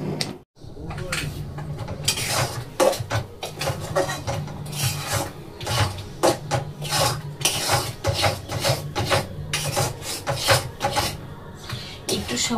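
A ladle stirs milk with cardamom powder in a pan over a medium-low flame. It makes repeated rhythmic scraping and rasping strokes against the metal, close up and fairly loud.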